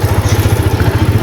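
A motorcycle engine throbs loudly at close range in a fast, regular pulsing rhythm, ridden slowly through traffic on a hill road from Siliguri toward Kurseong.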